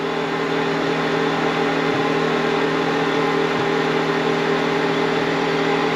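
A WEN 56235i inverter generator idles with eco mode off and nothing plugged in, giving a steady, close engine drone and hum throughout.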